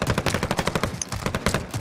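Rapid automatic gunfire from Call of Duty Warzone, a steady stream of evenly spaced loud shots filling the whole stretch with dense, rattling bursts.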